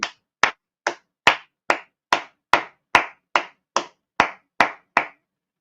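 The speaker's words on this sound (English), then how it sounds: "Round of applause." Twelve sharp, evenly spaced hand claps ring out at a steady, deliberate pace for a round of applause, sounding like a single pair of hands rather than a crowd, with silence between each clap.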